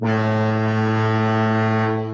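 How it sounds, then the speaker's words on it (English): A foghorn sound effect blares on a talk show as one deep, sustained horn blast lasting about two seconds, loud and steady, with no voices over it before it tapers slightly at the end. "You get the foghorn. First foghorn of the day."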